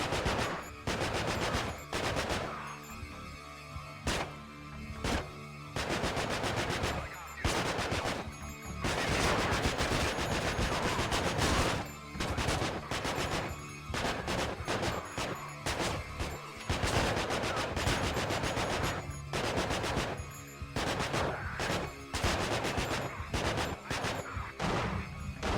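Gunfire in the video game Manhunt: dense, rapid bursts of shots that continue almost without a break, loud and relentless.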